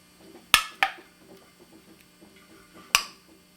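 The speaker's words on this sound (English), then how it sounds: "That's the lid being sucked down onto the jar just from that instant quick cooling there." Canning jar lids on homemade grape jam pop sharply as they seal while cooling, giving three crisp, close clicks with quiet gaps between them.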